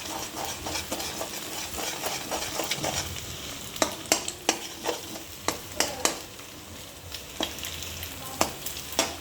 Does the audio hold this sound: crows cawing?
no